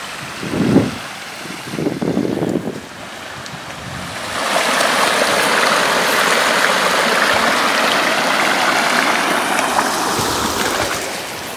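A river running high rushes steadily in La Renauchat, France, a few low splashy bursts at first, then a broad continuous flow of moderate loudness.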